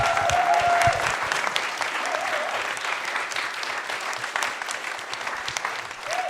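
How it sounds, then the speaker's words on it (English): A sustained round of audience applause fills a panel session in Knowle West, Bristol, steady and dense clapping from a sizable crowd that holds from start to end with only a slight taper. "should we have a huge round of applause for each other and for the panel?"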